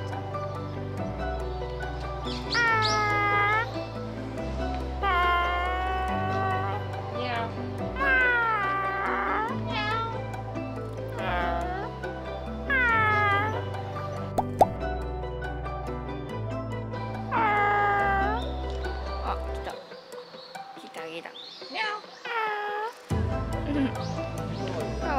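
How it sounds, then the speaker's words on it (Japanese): A cat outdoors near a Natsume Soseki heritage site in Ehime, Japan, meows again and again in a series of close, rising calls with short pauses, over a low steady hum and some quiet voices. "猫ちゃん、猫ちゃん。"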